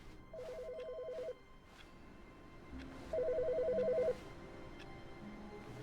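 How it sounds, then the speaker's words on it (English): A telephone rings in The Stanley Parable video game: two bursts of a fast electronic trill a couple of seconds apart, clear and moderately loud over a faint background hum. "Wait, I hear a phone ringing."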